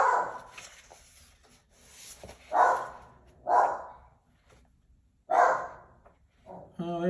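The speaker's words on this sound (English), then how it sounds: "there's my dog who wants to let everybody know that he doesn't want to be ignored" A dog barks several times in separate loud bursts at moderate distance, with a short whine or yip near the end and faint background noise between barks.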